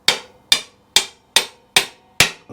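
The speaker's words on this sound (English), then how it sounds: "any of these bolts you see me smacking with the hammer, they're not getting used again." Hammer smacks bolts on a Royal Enfield motorcycle in six sharp metallic blows, evenly spaced about half a second apart, each a bright close strike with a short ringing decay.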